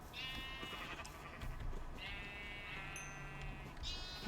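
Sheep bleating in a Minecraft survival game, three drawn-out wavering bleats spaced about two seconds apart over a quiet, faintly noisy background, with no talking.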